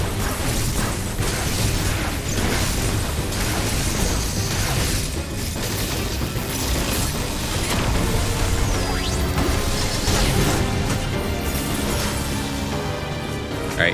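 Explosions from missiles and cross bombs in the Metroid Dread boss fight against Raven Beak, with dense bursts and booms layered over continuous game music and effects, loud and steady throughout.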